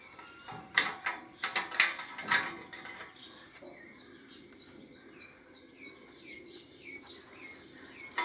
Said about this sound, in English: I'm just going to tighten all this exhaust mounting system up, brackets and stuff.